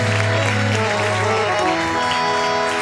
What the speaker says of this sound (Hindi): जोर से ताली बजाएं यीशु मसीह के लिए।